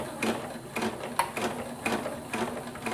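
A sewing machine stitches a curved piece of a baby hat at slow speed, running in short rhythmic bursts of mechanical whirring and ticking, close and clear.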